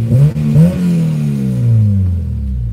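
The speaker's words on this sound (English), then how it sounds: "I did a little rev for them." A Honda Integra engine revs up twice in quick bursts, then settles into a steady, loud idle hum close by.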